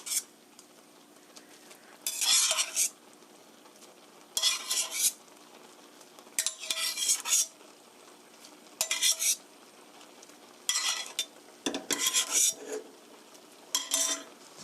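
Cooked spaghetti is stirred in a pot with a utensil, making loud, close scraping and clinking strokes in regular bursts about every two seconds, separated by near silence.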